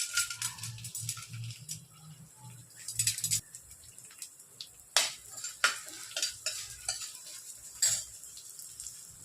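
Edible gum is roasted in ghee for methi coconut laddu, with a spoon scraping and stirring the pan in irregular bursts and a soft sizzle underneath, close and fairly quiet.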